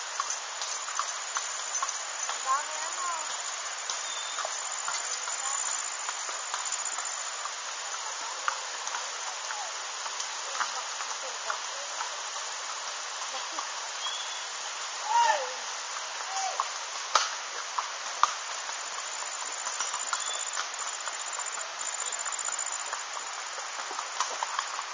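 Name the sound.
horses walking, hooves clip-clopping on road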